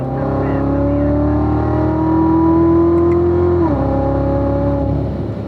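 A race car engine on the Spring Mountain track, loud and close, droning as it pulls through a gear, then the pitch drops sharply with an upshift into fifth before climbing again.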